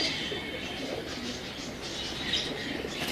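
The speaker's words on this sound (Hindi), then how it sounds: "ये भी टैडी कबूतर हैं" Teddy pigeons kept by a fancier give faint, soft cooing mixed with light chirps against a steady airy background, with little else standing out.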